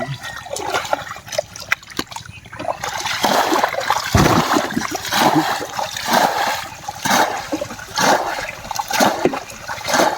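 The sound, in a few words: water draining away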